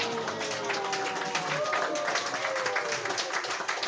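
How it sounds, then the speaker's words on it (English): An audience at a potluck dinner applauds a newly married couple. Scattered hand claps blend into a sustained patter of moderate loudness, with voices and cheering mixed in throughout. "Please give them a round of applause."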